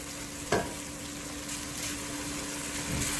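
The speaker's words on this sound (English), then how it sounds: "so we are simply frying it real quick." Oxtail sizzles and crackles steadily in a hot pot, with a brief clink of a utensil early on and no talking.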